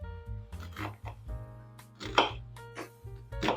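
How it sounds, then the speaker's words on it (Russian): A large white onion chopped on a board for a Chinese chicken-corn soup with bok choy: a few knife strokes land at an uneven pace against steady background music, close and fairly clear. "И также я нарежу сейчас большой белый лук."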